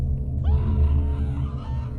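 A scream rises from someone and carries on in a strained, wavering wail over a low continuous rumble, moderately loud and alone.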